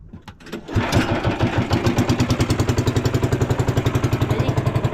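A boat's engine starts up and settles into a steady, rapid putt-putt idle, loud and close, with an even pulsing rhythm that continues to the end.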